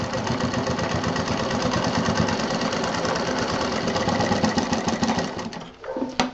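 A sewing machine running fast along a sling bag seam, a steady rapid mechanical chatter for several seconds before slowing and stopping with a short clunk and a brief restart.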